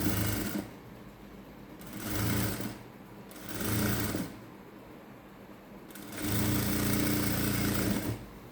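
A sewing machine stitches a peplum kurti top in four bursts of rapid, rattling mechanical chatter, separated by brief pauses, and runs longest in the final run.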